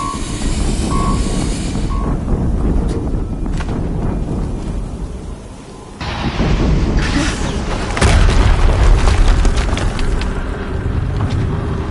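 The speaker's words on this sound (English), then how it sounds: "Another explosion." Explosions in the video game Horizon Zero Dawn boom heavily amid rumbling mechanical game noise, with a sharp cut into a louder, deeper blast partway through.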